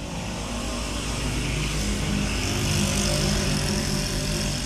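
A motorcycle passing outside, its engine a loud, steady broadband rumble that holds throughout with a slight swell toward the end, heard alone without speech.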